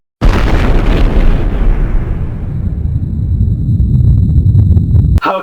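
A big explosion bursts in suddenly and loud, a deep roaring blast that rumbles on and slowly thins out over several seconds before cutting off abruptly.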